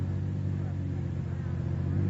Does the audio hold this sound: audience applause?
no